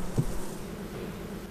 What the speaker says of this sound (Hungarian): Óvatosan lerázzák és lesöprik a szorgoskodó méheket a lépről.